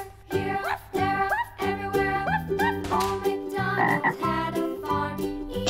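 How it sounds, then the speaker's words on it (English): A frog-like croaking repeats several times over a steady musical backing, with bright tonal notes throughout; no voices. "Frog."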